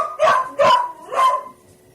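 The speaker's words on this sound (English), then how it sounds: "Does that dog sing? That's better than I do." A dog gives three loud, close, drawn-out bark-howls in a row, each with a sung, wavering tone, and the last one trails off.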